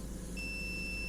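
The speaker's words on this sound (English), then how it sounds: "we set it to beep mode" A multimeter in continuity mode gives a steady high-pitched electronic beep that starts partway in and holds, quiet over a low background hum, with electrode pairs of a pouch cell being tested.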